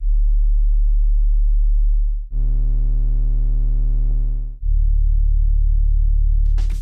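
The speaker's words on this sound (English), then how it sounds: "adding some harmonics to a simple sine wave" A steady pure sine tone plays, then switches to a brighter, buzzier version of the same pitch with added harmonics, then to another variant; three sustained tones back to back.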